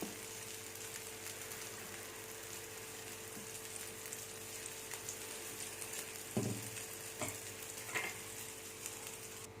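Kuzhi paniyaram batter fries gently on a low flame, a soft continuous sizzle with a few brief clinks and scrapes near the end, quiet and close, no talking.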